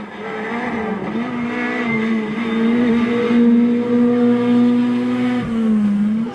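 A Ford Fiesta R2 rally car's engine roars loudly at high revs as it passes close by on a rally stage, its pitch holding steady then dipping briefly near the end.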